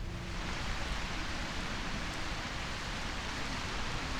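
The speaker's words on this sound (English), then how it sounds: "Thank Christ for the rain." Rain falls in the video game A Quiet Place: The Road Ahead, a dense, steady hiss of drops hitting surfaces that fills the scene evenly without breaks and sits fairly loud with no voices over it.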